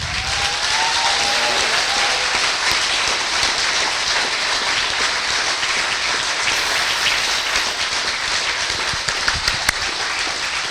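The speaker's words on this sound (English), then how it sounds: "another round of applause for Richard" Sustained applause from an audience thanking a panel of speakers at an event in East Kilbride, a loud, dense wash of clapping that stays steady for about ten seconds without speech.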